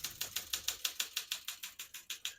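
Rapid, steady keystrokes on a 1966 Olympia SM9 manual portable typewriter, about fifteen crisp clacks in a close, even rhythm with no voices.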